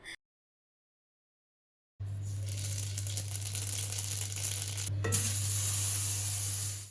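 Mustard seeds temper in hot oil as the base for a sour fish curry. The sizzle begins abruptly after a moment of silence, then holds steady, close and crackling, with a brief stir partway through.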